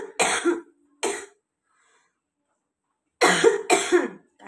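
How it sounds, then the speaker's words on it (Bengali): Four harsh coughs from one person, close and loud, come as a pair of bursts, then a pause of about two seconds, then two more in quick succession. "কাশি আর যাবে না"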